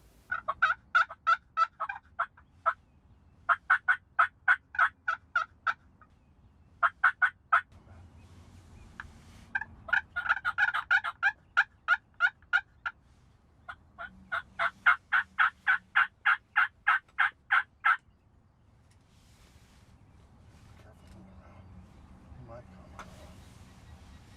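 A wild turkey gobbles in spring woods during a hunt, with loud, rapid rattling bursts repeated several times and separated by short silences, then fading to quiet background rumble.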